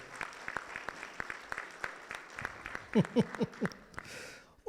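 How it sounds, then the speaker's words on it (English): Scattered applause from a small business audience at a South Texas energy event, light irregular clapping that fades out, with a few voices and louder nearby sounds toward the end. "So how about a round of applause for Janie?"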